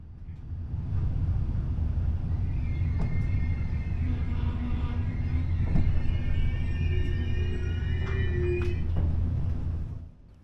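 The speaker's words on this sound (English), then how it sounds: "We pull in to Nürnberg Hauptbahnhof just 2 minutes behind schedule at 8:56" An ICE 3 high-speed train pulling into Nürnberg Hauptbahnhof, heard from on board as a steady low rumble with rolling wheel noise and faint squeals, fading out as it comes to a stop.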